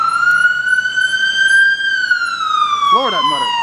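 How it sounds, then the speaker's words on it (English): A loud wailing paramedic ambulance siren in Montreal sweeps up and down steadily, close by, ending with a brief warbling yelp. "he hit that siren last second over there"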